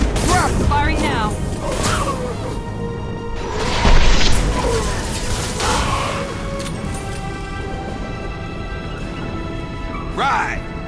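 Heavy shots and crashing impacts burst out in a Mass Effect 2 firefight, several sharp hits spaced over a few seconds against a busy, rumbling game-combat background.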